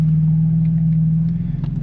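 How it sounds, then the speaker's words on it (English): A car with a swapped-in BMW S55 engine on its first drive gives a steady, close low drone and rumble from inside the cabin, with no talking. "we're in the car, officially on its maiden voyage"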